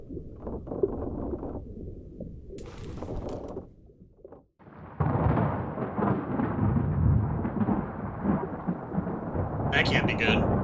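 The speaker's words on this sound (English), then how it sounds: "Storm's coming!" Thunder rumbles in the video game Return of the Obra Dinn, with a deep rolling boom, a brief sharp crack, then heavy sustained roaring storm noise with rain and wind, loud and enveloping.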